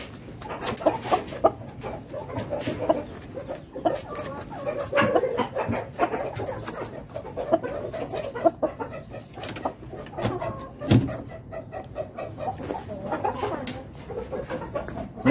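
Chickens cluck and murmur on and off throughout, with a few sharper calls standing out against a busy farmyard background on a cold, foggy day.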